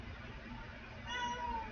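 A house cat gives a short, faint meow at the end of a brief stretch of low room noise.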